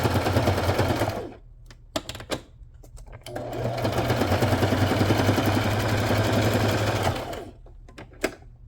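A sewing machine runs in long, steady bursts, its motor whirring through straight and zigzag stitches along the edge of a tagbook page, with short pauses and clicks between runs.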